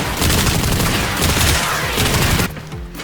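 Rapid burst fire from a weapon in the video game Warframe, a loud dense stream of shots that cuts off sharply near the end and leaves a brief quieter tail.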